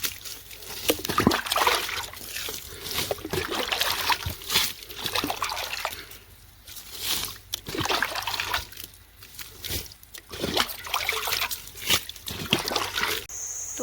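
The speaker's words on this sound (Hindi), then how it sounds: "मैं यहाँ पे थोड़ा पानी डाल रही हूँ।" Water poured from a pot onto a field gives irregular splashing and trickling bursts at moderate volume, in uneven pours with brief pauses between them.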